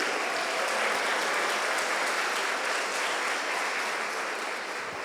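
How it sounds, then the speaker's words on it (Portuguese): A church congregation breaks into sustained applause, a dense, steady wash of clapping from a large crowd that holds at an even level throughout with no speech over it. "Vamos aplaudir o Senhor."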